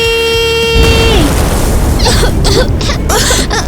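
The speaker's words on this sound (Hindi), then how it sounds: "ये क्या था? ईवा का धमाका था" A sudden loud boom cuts off a sustained tone, followed by a rumbling, crackling roar that lingers for several seconds.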